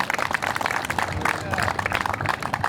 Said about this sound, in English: Everyone, please help me give a round of applause to Marcia Foster for her leadership.